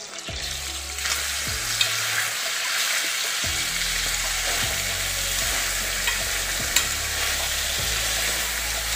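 Crushed garlic and rosemary fry in a pan with a steady, loud broadband sizzle, while a few low thuds of utensil contact recur every second or so beneath the continuous crackle.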